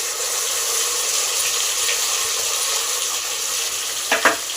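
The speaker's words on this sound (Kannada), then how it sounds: "ಇದು ಚೆನ್ನಾಗಿ ರೋಸ್ಟ್ ಆಗಬೇಕು, ಚೆನ್ನಾಗಿ ಫ್ರೈ ಆಗಬೇಕು." Masala and onions fry for a home-style mutton curry, giving a steady close sizzle over low heat, with a couple of sharp stirring scrapes near the end.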